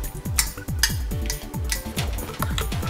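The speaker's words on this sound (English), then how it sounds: "I'm taking them out with a potato masher because I'm going to mash them." Fresh fava beans are mashed with a potato masher in a kitchen, making a quick, regular series of close dull thumps and soft clanks against the bowl, with no talking.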